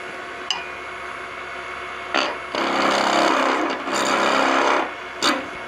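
A skew chisel cuts a hickory spatula spinning on a wood lathe, giving loud, close rasping scrapes in bursts: a brief tick, then a long abrasive stretch from about two to five seconds, and a short final scrape.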